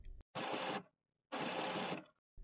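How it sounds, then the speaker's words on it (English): Paper pick rollers of an HP Photosmart 5520 printer whirring in two separate bursts, each under a second long and close, with silence between them. "Listen for the paper pick rollers. You should be able to hear them rotating."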